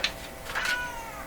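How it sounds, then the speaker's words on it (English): A cat meows close by in a room where an old Philco tube radio is being aligned, a single drawn-out rising and falling call that carries over a faint steady hum. "Oh no, here comes the cat again."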